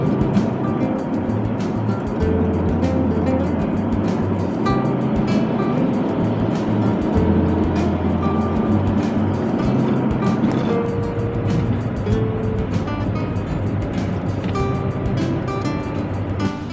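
A kei camper van built on a Daihatsu Hijet truck accelerates onto an expressway and cruises toward 80 km/h, with a loud, continuous engine drone and road rumble that runs unbroken throughout.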